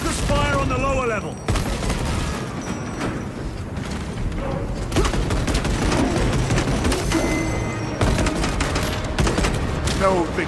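Dense, sustained gunfire from a Warhammer 40,000: Space Marine II battle, with rapid bursts and booming impacts running loud and continuous under shouted in-game voices.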